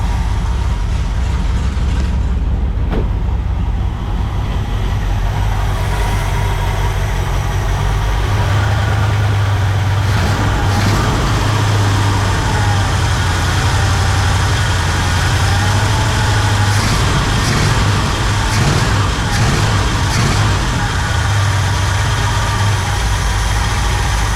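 A 1964 Pontiac Catalina barn find, revived after more than 30 years, idles steadily and close by, a loud continuous low rumble with a slight rise in engine note partway through and no pauses.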